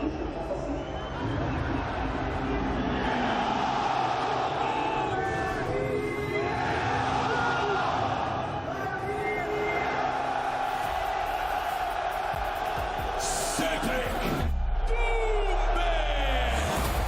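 A large crowd roaring and cheering at a fight event in the smart cage, a dense, continuous wall of shouting and whoops with a commentator's voice talking over it.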